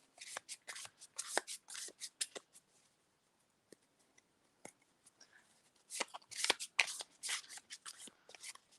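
Paper prompt slips for a card-style game are mixed and shuffled by hand, giving close, crisp bursts of rustling and flicking paper in two busy spells separated by a quieter pause.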